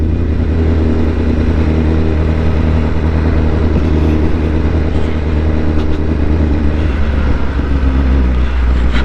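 Light, quick motorbike engine droning steadily at speed while riding, loud and close, a continuous buzzing roar with slight rises in revs.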